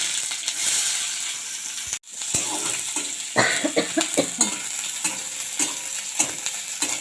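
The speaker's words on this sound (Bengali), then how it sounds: "তেল গরম হয়ে গেছে আমি শুকনো লঙ্কা কেটে দিয়ে দিলাম এরপর দিয়ে দেব পাঁচ ফোড়ন এরপর দিয়ে দেব পেঁয়াজ কুচি" Dried red chillies, panch phoron and chopped onion fry in hot oil, giving a loud, close, continuous sizzle broken by a brief gap, then crackling pops and stirring scrapes.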